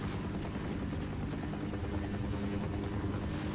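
A helicopter in the video game Half-Life gives a dense, steady rotor roar that fills the whole clip, loud and unbroken, with no voices.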